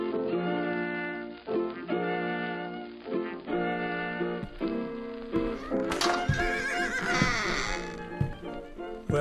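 Horse whinnies repeated several times in a staged comedic sponsor spot, loud and close, with a stretch of clattering, noisier sound near the end and no talking.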